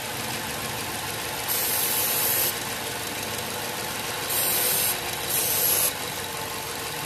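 Several sharp bursts of aerosol brake cleaner hiss loudly over a steadily idling car engine while it is sprayed around the engine to find a vacuum leak.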